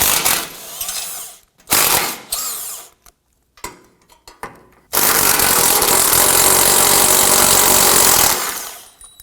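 Ratcheting and power-tool bursts loosen and remove bolts with a 13mm socket on a 2003-2014 Volvo XC90 3.2L during AC condenser and receiver drier replacement, short bursts with pauses, then a loud sustained run near the end.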